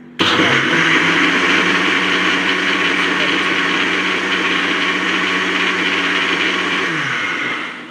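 A mixer blender blending watermelon with sugar runs loud and steady for several seconds with a harsh whirring drone, then winds down at the end.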